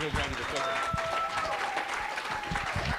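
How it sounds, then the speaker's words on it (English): Audience applause for someone speaker at a 2016 network marketing meeting, steady dense clapping mixed with cheering voices throughout. "Give her a round of applause."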